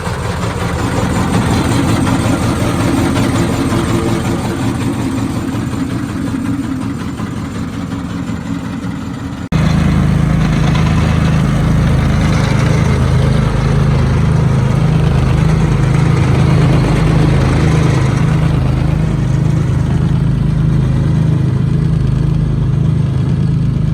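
A Vertidrain turf aerator working a golf course during autumn maintenance runs with a steady engine drone and rhythmic mechanical thumping. Midway it turns abruptly louder and heavier, a close, continuous low rumble with no voices.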